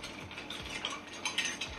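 Ice rattles and clinks as a Manhattan cocktail is stirred in a mixing glass. The stirring is close and continuous, a busy grinding rattle with small bright knocks and no talk.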